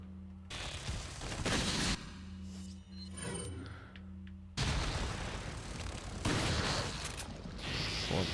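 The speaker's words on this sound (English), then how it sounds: "Let's try a flash grenade we got." Flash grenade in Resident Evil 4 going off amid dense game combat noise, with loud bursts of blast and gunfire-like crackle that fade into mechanical clatter before flaring up again.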